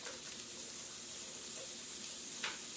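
Poblano peppers and onions sizzle in a pan, giving a steady, even hiss with no letup, close up and moderately loud; nobody speaks.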